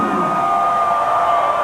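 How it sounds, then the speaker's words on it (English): A wrestling crowd at a match roars and cheers in a sustained, loud wash of voices with whoops, steady throughout the short stretch with no clear single speaker. "And the crowd is going bananas for Swoop the Eagle."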